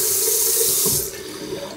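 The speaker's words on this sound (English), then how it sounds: "So now we have cold Austrian mountain water" Cold mountain tap water gushes into a sink with a bright, hissing splash that drops to a softer trickle partway through.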